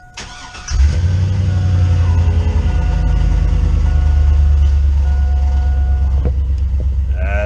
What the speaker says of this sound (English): We gotta hear that cold idle though.